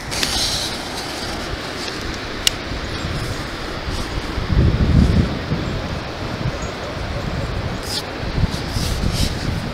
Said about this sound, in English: It's windy out. It's Santa Ana's blowing